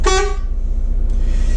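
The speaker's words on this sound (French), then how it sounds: "la commande du klaxon." Irisbus Agora city bus horn sounded once in a short, loud, close blast that quickly decays into a steady engine idle.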